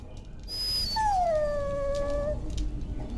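A dog in the video game Dragon Age: Origins gives one drawn-out, high whimpering whine that slides gently downward, then trails off into quiet background ambience.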